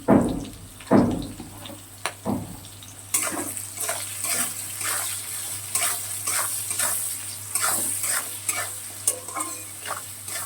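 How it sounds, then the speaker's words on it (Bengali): Chopped onion and green chili frying in a pan for chowmein, a steady sizzle with repeated scraping strokes of stirring across the whole stretch, close and moderately loud, with no voices. "এটা আর একটু ভাজা ভাজা হবে, তারপরে চাউমিনটা আমি দেবো।"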